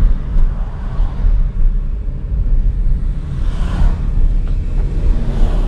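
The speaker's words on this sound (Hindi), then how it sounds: "काफ़ी सारी गाड़ी आ रही है" Road traffic rolls past a Tata Punch AMT car, a loud, continuous low rumble with swells as vehicles go by, heard from inside the car without talk.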